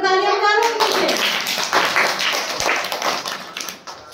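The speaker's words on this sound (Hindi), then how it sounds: "सब तालियां मारो नीचे।" Children in a primary school classroom clap together, a dense patter of many small hands that follows a brief sung note and carries on steadily, close and fairly loud.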